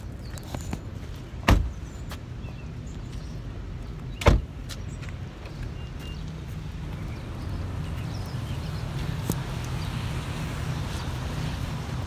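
Inside a parked car just switched off, two solid door thuds ring out a few seconds apart over a low steady rumble, as people climb out.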